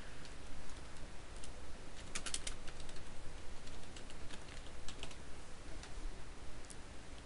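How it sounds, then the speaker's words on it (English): Quiet, rapid clicking of keys on a computer keyboard, with short bursts of typing and a brief flurry of faster strokes, heard close up with no talking. "or actually just write subscribe if I type it right."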